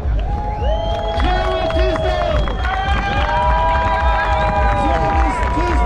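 A crowd cheers and applauds the winner of a motocross beach race, a steady roar of noise that holds throughout while an announcer speaks loudly over it.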